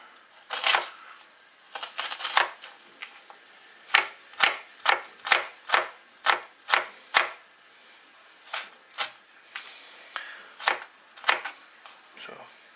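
Knife chopping onion into small pieces on a cutting board, a steady run of sharp, close taps in quick bursts with short pauses between.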